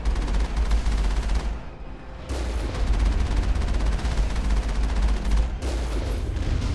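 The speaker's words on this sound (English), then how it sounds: "Wow, that's a lot of fucking rockets." Dense, loud volleys of rockets firing and exploding in the Mass Effect game, on Noveria against the geth: continuous booming blasts with a brief lull near two seconds and another dip late on.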